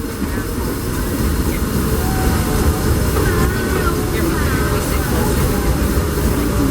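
Disneyland Railroad steam train rolling along its track, a loud continuous low rumble with rattling carriages and a faint high squeal from the wheels, close and steady throughout.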